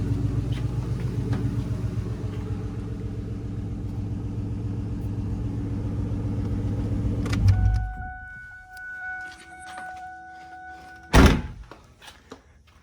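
A turbocharged Ford Mustang SN95 with a cracked number 2 lens idles with a steady, loud low rumble for about seven seconds, then shuts off into quiet, followed by a single sharp clunk.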